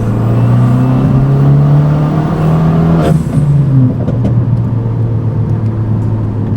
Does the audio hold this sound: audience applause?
no